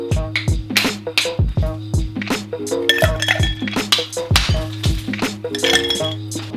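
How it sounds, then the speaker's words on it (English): Large ice cubes are cracked for a stirred cocktail in a quick run of hard, bright clinks and knocks. The strikes are close and loud and repeat in an uneven rhythm. "So, crack your large ice."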